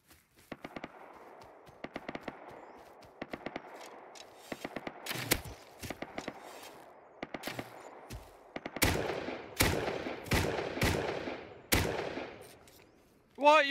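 Gunshots from the survival game Rust crack out in sharp bursts: scattered single shots and rapid strings, some close and loud and others lighter and farther off, with a brief voice near the end.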